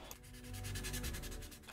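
A 1000-grade sanding pad rubs over primer on a 1/48 Tamiya Messerschmitt Me-262 scale model aircraft, a soft, close, continuous scratchy scrubbing with faint back-and-forth pulses.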